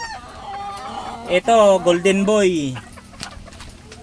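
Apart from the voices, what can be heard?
chickens clucking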